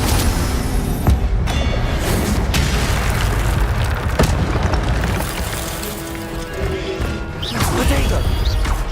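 Incendio fire spell cast in the Hogwarts Legacy video game: dense, loud magical effects with repeated booms and crashing bursts over a constant rumble of game sound.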